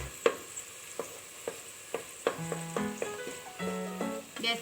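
Masala for veg pulao sautés in a pan, a soft continuous sizzle broken by regular scraping strokes of a spoon stirring, close and fairly quiet with faint clinks of utensil on metal.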